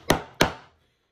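Two sharp mortise chisel strikes into wood, a quick pair of knocks a fraction of a second apart, close and crisp, then silence.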